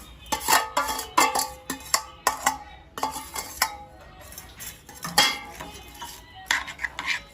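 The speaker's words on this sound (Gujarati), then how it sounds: "સારી રીતના આપણે મિક્સ કરવાનું છે।" Roasted sev is stirred in a pan for sweet sev, making repeated metallic scrapes and clinks of a spoon against the pan in an uneven rhythm, close and fairly loud.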